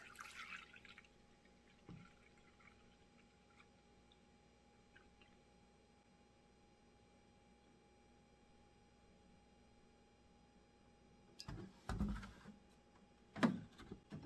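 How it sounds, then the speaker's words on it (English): Milk for homemade chocolate pudding is poured into a measuring cup. A long near-silence ends in short bursts of gurgling, splashing pour and a clunk of the cup, close by and with no voices. "now it's time to pour some milk"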